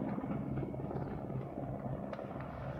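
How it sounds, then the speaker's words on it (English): Russian helicopter gunships, a dense rumbling rotor drone heard at a steady, fairly loud level throughout, with no voices. "These appear to be Russian helicopter gunships."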